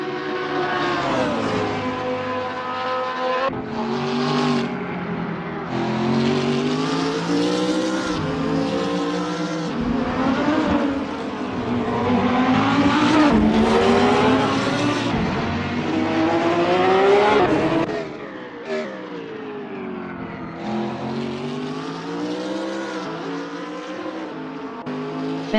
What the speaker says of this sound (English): driving a Lamborghini Huracan GT3